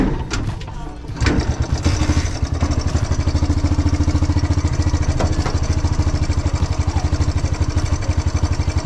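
A motorcycle engine cranks and catches, then settles into a steady, rapid idle chug that stays loud and close for several seconds, with a faint voice early on.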